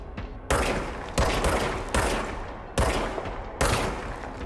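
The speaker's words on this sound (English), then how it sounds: "枪清脆" Gunfire from the video game Control: four loud, sharp bursts of shots with decaying echoes, firing in quick succession and standing clearly on their own.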